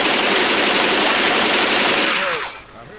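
Rapid continuous machine-gun fire in the Left 4 Dead video game, loud and dense for over two seconds before cutting off, leaving quieter game ambience.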